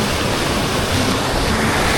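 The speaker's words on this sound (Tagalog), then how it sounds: "Oh, lalaki ng alon man." Big ocean waves crash and roll onto a beach in a loud, dense, continuous wash of surf with some wind noise, no voices.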